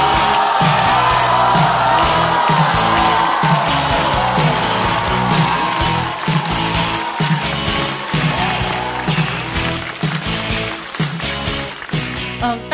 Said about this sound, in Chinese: 让我们掌声欢迎孙熙